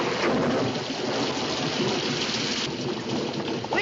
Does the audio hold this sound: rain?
yes